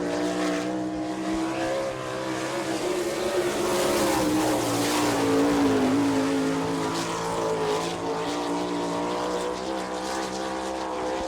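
A Ford-powered sprint car with a B&B engine and Maxim chassis racing around a dirt oval at an All Star Circuit of Champions event in Chillicothe, Ohio, its engine roaring loudly and steadily, rising and falling in pitch as it circles the track.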